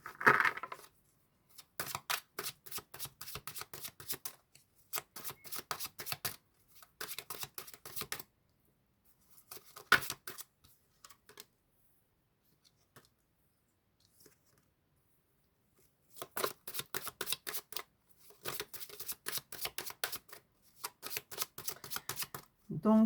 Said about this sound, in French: Je tire les cartes et puis après je vous fais passer les messages.